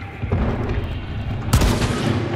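Gunfire in the video game Hunt: Showdown crackles in a rapid rumbling burst, then a sharp loud explosion cracks in and its blast rolls on as a dense, booming roar.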